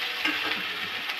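Taro stolons stirred through hot soybean oil in a pan, a steady broadband sizzle with faint scraping and soft stirring knocks, close and continuous.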